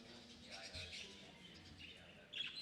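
Budgerigars at a budgerigar show chirp and twitter faintly, a busy high chatter of many birds under low room noise, with a brief louder burst of chirps at the end.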